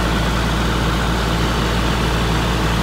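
A John Deere 6068 diesel engine idles steadily close by, with a continuous low rumble and a broadband mechanical roar that holds even throughout, with no voices.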